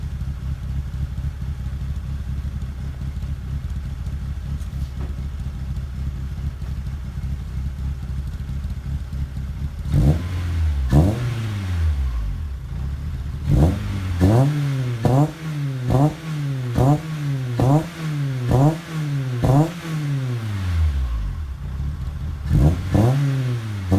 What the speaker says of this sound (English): I want to get some quick exhaust clips for you guys so you can hear the difference.